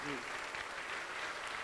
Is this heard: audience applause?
yes